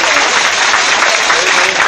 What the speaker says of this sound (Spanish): Vamos a brindarles un fuerte aplauso a Sergio Sánchez y a Donovan Pascual.